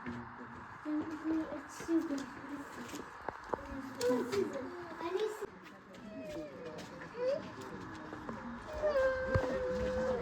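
A white cat meows several times in drawn-out, wavering calls, mixed in among adults and someone talking nearby in a busy outdoor setting.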